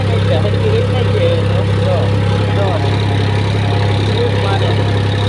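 A tractor pulling a tine harrow through a wheat field holds a steady, loud, close-up engine drone with no change in pace throughout.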